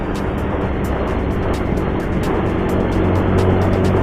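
A Honda Supra GTR 150 manual motorcycle is ridden in gear on an uphill and downhill road, its engine giving a steady, loud, continuous drone with wind rush throughout and no talk.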